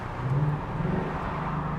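Steady low engine drone from a 2024 Ford Mustang GT with a naturally aspirated V8 as the car brakes, a smooth, even rumble with no sharp revving, heard from inside the car.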